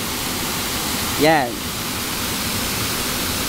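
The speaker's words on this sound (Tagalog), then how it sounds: "So, ayan po yung falls." Steady broadband roar of Kalanay Falls waterfall in Palanas, Masbate, continuous throughout, with someone briefly speaking over the rushing water.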